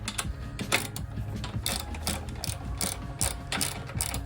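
A hand ratchet loosens bolts on a truck shock mount, its pawl clicking in quick repeated bursts of sharp ticks, close and fairly quiet, with brief pauses between strokes and no talking.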